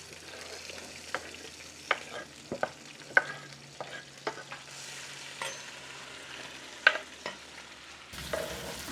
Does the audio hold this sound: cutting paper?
no